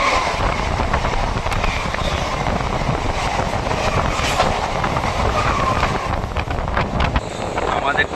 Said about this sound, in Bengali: আমাদের ট্রেন এখন প্রবেশ করছে তার তৃতীয় হল্ট বালি।